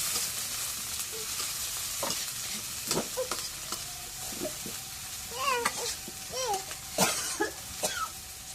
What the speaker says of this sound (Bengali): এখন পেঁয়াজ মরিচটা তেলে ভাজা হয়েছে